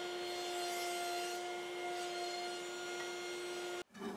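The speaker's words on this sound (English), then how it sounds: "I then switched back to my combination blade, and I'm gonna use that with my crosscut sled to put a nice clean end on this replacement board." Table saw with a combination blade crosscutting the end of a replacement board on a crosscut sled makes a steady, loud whine that holds for nearly four seconds, then cuts off abruptly as the blade leaves the wood.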